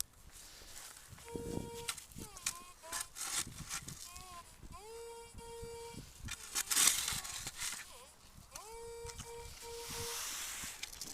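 Metal detector (Excalibur) signal beeps rise and hold in short warbling tones, repeated several times over scraping and digging sounds during a night search in Chałupy, Poland, with a voice speaking briefly.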